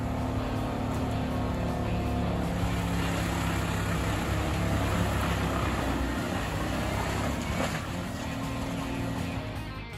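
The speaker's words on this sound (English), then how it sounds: "Equipped with a powerful Scania DC16 engine with an incredible 550 horsepower, the OP Ergo 993 wood chipper easily turns logs into valuable wood chips" An OP Ergo 993 wood chipper mounted on a Volvo FH16 truck and powered by a 550-horsepower Scania DC16 engine runs with a loud, steady, unbroken mechanical drone.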